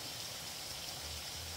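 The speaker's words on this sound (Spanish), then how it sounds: "Es muy alta esta cascada." Steady broadband rush of a tall waterfall outdoors, a continuous even roar of falling water with no pauses and no voices.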